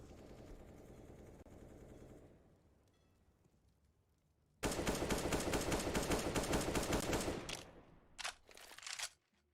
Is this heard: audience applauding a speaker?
no